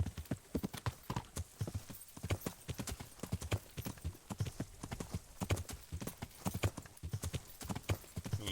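Steady clip-clop of a horse's hooves in the video game Kingdom Come: Deliverance, a quick continuous trotting rhythm heard quietly with no talk.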